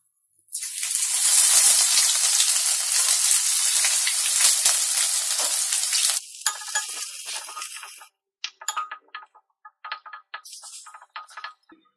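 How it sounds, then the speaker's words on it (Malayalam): Crushed ginger, fennel and green chili dropped into hot oil for a Kerala-style egg roast, giving a loud, bright sizzle that settles and then breaks into short crackling spurts as the pan is stirred. "എണ്ണ ചൂടായി വന്നിട്ടുണ്ട്. ഇനി ഇതിലേക്ക് നമ്മൾ ചതച്ചു വെച്ചിരിക്കുന്ന ഇഞ്ചിയും പെരിഞ്ജീരകവും പച്ചമുളകും കൂടെ ചേർത്ത് കൊടുക്കാം."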